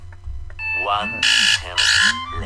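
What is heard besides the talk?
alarm beeping and buzzing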